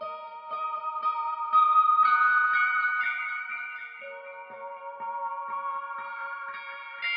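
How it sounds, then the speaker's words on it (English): Melodic electric guitar line processed through a Guitar Rig 5 effects preset with an imager, heard alone with shimmering chorus-like and echoing texture, sustained notes gliding steadily at moderate loudness. "So I added this also an imager and this guitar rig 5 on this preset."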